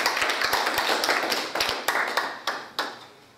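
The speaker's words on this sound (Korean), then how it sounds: "우리 박수 한번 부탁드립니다." A small gathering at a Korean community association board meeting claps briefly, a loose run of separate hand claps slowing and thinning out over a few seconds.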